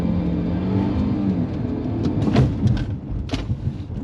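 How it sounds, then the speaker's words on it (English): A car on Continental UC7 tyres on a test track, running at full throttle with a steady engine roar, then a braking phase with brief tyre and brake noises; a near, continuous drone throughout, with no talk. "Full throttle and then you brake at the board."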